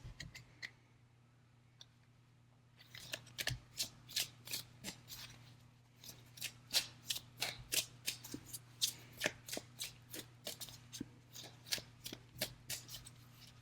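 A deck of tarot cards is shuffled close up after a quiet start: a rapid run of crisp, papery riffles and flicks at a fairly regular rhythm, with no talking.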